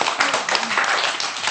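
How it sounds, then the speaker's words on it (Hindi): Close, loud clapping from a small group, likely children, on a TV morning show studio set, brisk uneven hand claps in quick bursts with no one speaking over them. "सबसे तालियां बजाओ।"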